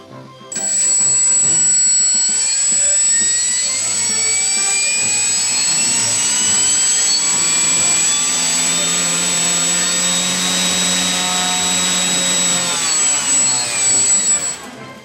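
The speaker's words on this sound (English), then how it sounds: "I'll just give you another listen to that motor so you can see that propeller turn there" A small electric motor of a ParkZone RAF SE-5a RC plane whines loudly as its propeller spins, the high-pitched tone rising and falling slightly in a sustained, close buzz.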